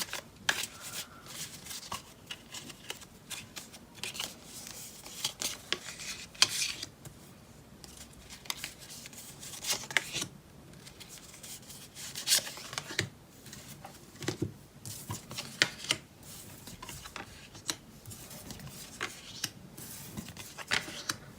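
Tarot cards being shuffled up close for a Cancer horoscope reading, continuous soft papery riffling and flicking with irregular sharper slaps, no voice.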